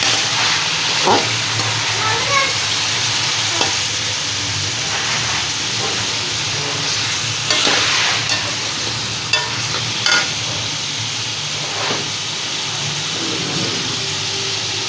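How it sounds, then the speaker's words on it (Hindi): Chicken frying in a pot for chicken pulao, with a continuous loud hiss and sizzle and occasional stirring scrapes, with no voices. "इसको फ्राई कर लेते ताकि इसका कलर चेंज हो जाए"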